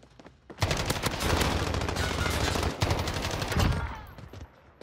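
Rapid automatic gunfire in a first-person shooter, loud and sustained in two long bursts separated by a brief gap, with no talk over it.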